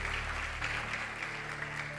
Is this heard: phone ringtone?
no